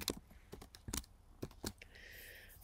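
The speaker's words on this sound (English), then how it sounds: "So I'm going to type in here copy.ai results." Several quick, faint key taps on a computer keyboard in an irregular short burst, close and quiet, with no talk.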